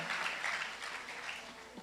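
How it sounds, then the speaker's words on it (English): Audience applause at a Philippine political event, a steady broadband clatter of many hands clapping, fairly close and sustained for about two seconds with no pause. "A round of applause, please."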